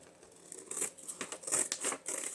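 Scissors snipping through junk journal cover material for a mini handmade journal, a few close, crisp cuts with soft crinkling of the material between them, no talking.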